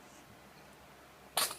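A baby gives one short, sharp sneeze near the end, loud against a quiet room with a fan running faintly.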